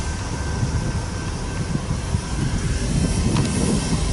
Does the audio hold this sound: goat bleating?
no